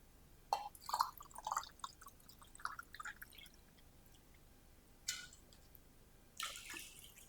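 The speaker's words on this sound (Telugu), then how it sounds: "నేను 2 గ్లాసుల వరకు నీళ్ళు పోస్తున్నాను దీంట్లోకి." Water splashes into a pan in short, uneven bursts with quiet gaps between, close and fairly soft, about two glasses poured for upma.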